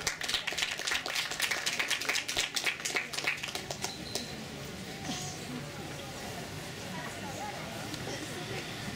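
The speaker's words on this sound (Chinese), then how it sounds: "来掌声鼓励一下" Audience applause welcoming an opening dance performance at a T-shirt launch event in Taitung: a burst of fairly close clapping that fades after a few seconds into crowd murmur and talk.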